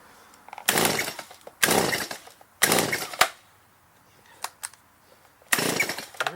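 STIHL MS170 chainsaw that has sat unused since last season and struggles to start, firing in four short, loud bursts of engine roar separated by pauses and faint mechanical clicks.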